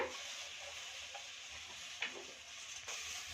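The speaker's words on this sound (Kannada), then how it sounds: "ನೋಡಿ ಇದನ್ನು ಕೂಡ ಚೆನ್ನಾಗಿ ಫ್ರೈ ಮಾಡ್ಕೊತಾ ಇದ್ದೀನಿ" Drumstick leaves frying in a pan for a curry leaf chutney powder, a soft, quiet sizzle with a few light stirring clicks and scrapes.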